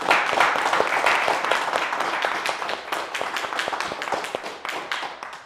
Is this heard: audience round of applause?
yes